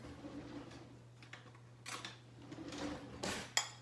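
A metal spoon is picked up and handled while guacamole is being made, with a few light clinks and scrapes against dishes over a low steady hum, close by and fairly quiet.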